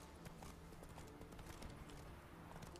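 Roach, Geralt's horse in The Witcher 3, trots with steady clip-clop hoofbeats over a low rumbling game soundscape, moderately close and continuous throughout.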